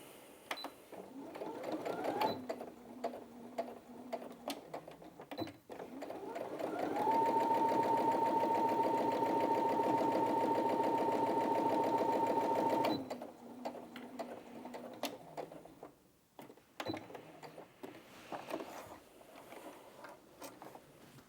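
A Brother Innov-is A16 sewing machine stitches through four layers of fabric in a steady, loud whirring run of about six seconds, framed by shorter bursts of stitching and quiet handling noises before and after.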